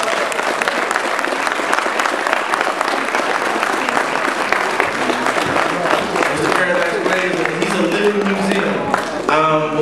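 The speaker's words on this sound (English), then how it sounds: "Let's give him a round of applause." An audience at a hip hop conference breaks into sustained, dense applause that fills the hall, with a voice briefly heard as it winds down.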